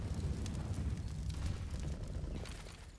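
An incendiary grenade burning in CS:GO makes a dense, roaring crackle of flames that holds steady, then fades slightly toward the end.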